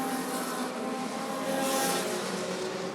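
Bandit-class race cars roar continuously around Rockford Speedway, a dense, steady wall of engine noise from a pack of cars battling on track with no clear break.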